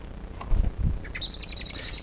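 A female blackbird calls in a garden, a short bright run of high clear notes arriving after a couple of low thumps, fairly close over a soft outdoor background.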